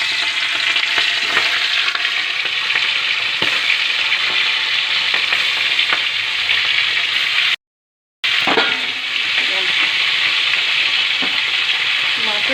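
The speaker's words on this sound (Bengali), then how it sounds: "মাছের মাথাগুলো ততক্ষণ ভাজা হবে।" Fish heads frying in hot oil give a loud, continuous sizzle with occasional crackles and the scrape of stirring, broken once by a brief cut of silence before the frying resumes.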